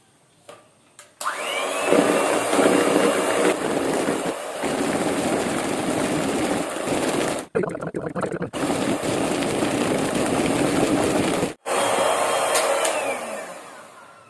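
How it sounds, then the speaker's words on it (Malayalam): An electric mixer beats eggs with sugar for a red velvet cake batter, a loud steady motor whine starting after a short pause and briefly cutting out twice before running on. "കുറേശ്ശെയായിട്ട് ചേർത്ത് കൊടുത്ത് നമുക്ക് നന്നായിട്ടൊന്ന് ബീറ്റ് ചെയ്തെടുക്കാം."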